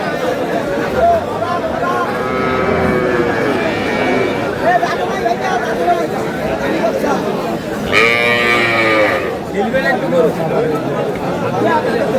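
A cow with her calf at a busy cattle market in Aftabganj, with lowing calls rising over the steady crowd chatter and nearby voices of people talking.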